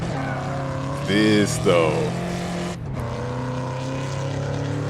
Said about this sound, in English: Normally when I come this way, I try to do a little burnout